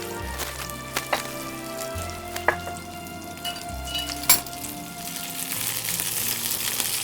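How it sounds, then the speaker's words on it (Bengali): Okra frying lightly in a pan for a restaurant-style bhindi do pyaza, giving a steady close sizzle with a few sharp utensil clicks and taps. "একটু হালকা লাল করে ভেজে দেবো"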